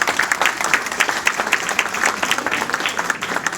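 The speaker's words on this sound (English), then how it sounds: "let's give them a round of applause" An audience at a 2019 Lions club installation ceremony gives a round of applause, a dense, steady patter of many hands clapping indoors for a few seconds.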